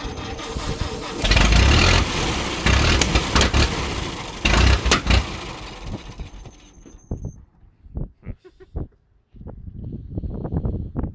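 A 1919 Chevrolet engine being started: a loud, rough roar runs for several seconds, then falls to choppy, sputtering bursts separated by short gaps, up close.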